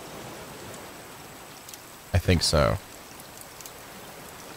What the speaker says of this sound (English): It's rainy time now.